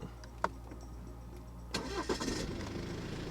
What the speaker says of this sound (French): un bon bruit de diesel qui fait bien plaisir